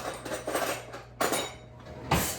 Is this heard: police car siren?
no